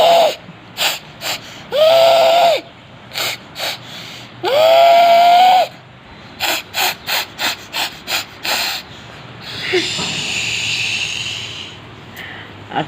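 A child imitates a train, alternating rapid breathy chugging puffs with two long whistle-like vocal toots, then ending in a sustained hissing exhale like releasing steam.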